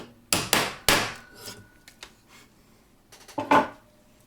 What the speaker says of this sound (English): Now we can hammer it in.